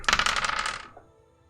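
Six-sided dice for a tabletop role-playing game rattle and clatter in a quick burst of sharp clicks on a hard surface, close and alone, then settle into silence.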